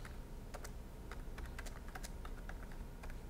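Typing on a computer keyboard while building a typewriter text effect in a Premiere Pro and After Effects tutorial; a run of quick, irregular key clicks heard alone against a low steady hum.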